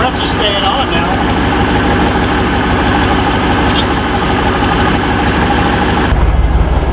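A GM OBS pickup truck engine idles loudly and steadily up close with the air conditioning compressor engaged, a constant low rumble with no break throughout.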